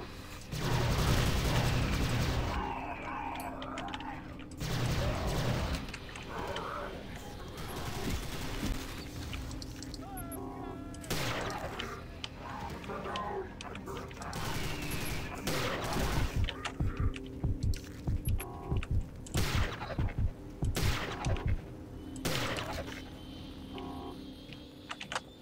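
Dense bursts of rapid gunfire from a new weapon in the video game Prey, loud and close, rattling in quick volleys with short pauses and mechanical clicks between them.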